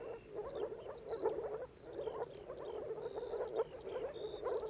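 Frogs croaking in a pond in a mountain hay meadow, a dense continuous chorus of repeated croaks at moderate distance, with faint bird calls above it and no voices.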